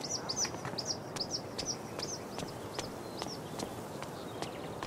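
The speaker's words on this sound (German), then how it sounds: "Ich frage mich, ob das der Vogel ist, nach dem die Frau sucht." Repeated high, descending bird calls from a buzzard in the video game Life is Strange: True Colors, sounding every half second or so over a steady outdoor ambience, with occasional sharp clicks mixed in.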